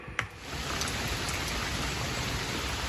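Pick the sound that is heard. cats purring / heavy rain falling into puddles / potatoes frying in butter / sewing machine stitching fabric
heavy rain falling into puddles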